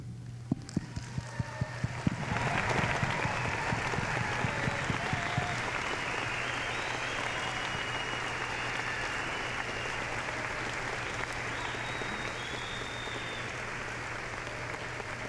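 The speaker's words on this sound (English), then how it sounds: "please stand and honor them with a round of applause" A standing audience at a university freshman convocation applauds its teachers: a few scattered claps at first, then a dense, sustained ovation swells and holds steadily, filling a large hall with a low hum underneath.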